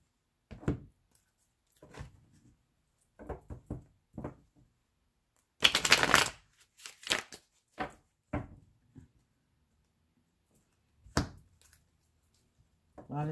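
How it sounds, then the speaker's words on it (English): Tarot oracle cards are shuffled in short, scattered bursts of soft riffling and tapping, close and quiet, with pauses of silence between them. "I'm gonna let you see me shuffle them"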